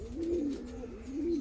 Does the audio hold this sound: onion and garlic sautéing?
no